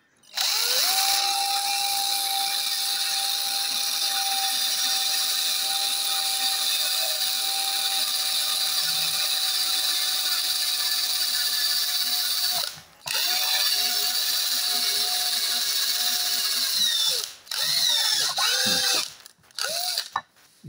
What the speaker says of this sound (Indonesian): Pakai ukuran 3 mm atau 4 mm.